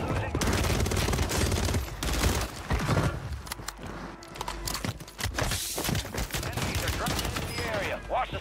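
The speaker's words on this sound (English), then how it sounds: "Alright, gunshots." Gunfire in a Call of Duty Warzone (MW3) match, with bursts of rapid shots and sharp cracks from a level below, clustered and fairly close, rattling on and off.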